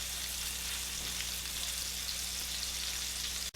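Brie-stuffed backstrap skewers sear in a hot pan, a loud, even sizzle that runs unbroken for several seconds under a low hum, ending in a brief sharp click.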